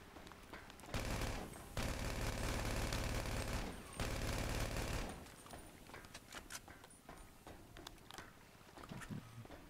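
Gunfire in a GTA V Online team deathmatch, dense bursts of automatic fire for a few seconds, then scattered fainter shots and clatter, with no voices.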